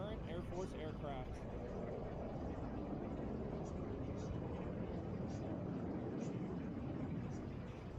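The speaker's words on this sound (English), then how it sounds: "There's the F-16 Fighting Falcon in its anniversary colors with Major Craig, actually say Major Taylor," F-16 Fighting Falcon in anniversary colors flying in a formation of classic and current Air Force aircraft, a steady loud jet roar lasting throughout, with a commentator talking over it.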